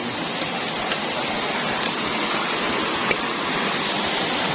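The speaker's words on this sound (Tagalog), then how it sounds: "Ayan po ang mga view ng ating sapa" A stream's flowing water rushes steadily and close, a dense broadband wash with no pauses and no voices.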